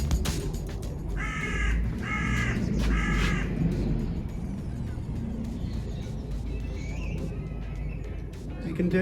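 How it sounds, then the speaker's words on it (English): A crow caws three times in quick succession outdoors near a workshop where car bodywork is being spray painted, loud and clear over steady background hum, followed by quieter ambient noise. "Crow."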